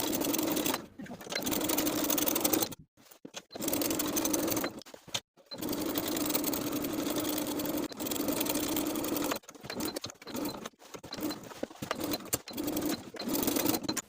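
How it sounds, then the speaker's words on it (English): A sewing machine edge stitches all the way around a shorts waistband, running in steady bursts with brief stops between stretches, close and clear. "from the outside, we're going to edge stitch the entire waistband all the way around"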